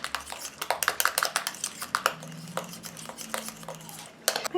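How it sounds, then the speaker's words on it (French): Homemade anti-cellulite body cream stirred in a container, with a utensil clinking and scraping against the sides in an irregular series of close, bright taps, with no talking. "Je mélange."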